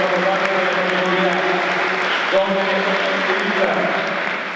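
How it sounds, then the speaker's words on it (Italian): Applause from an audience at the Giro d'Onore 2014 award ceremony, honoring a team that won bronze, a steady dense clatter of clapping mixed with a voice talking over it throughout. "facciamo un applauso"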